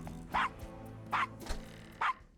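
A dog in the adventure game Gabriel Knight: Sins of the Fathers barks three times in evenly spaced, clear, mid-distance woofs over a low ambient game background.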